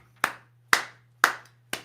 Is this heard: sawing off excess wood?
no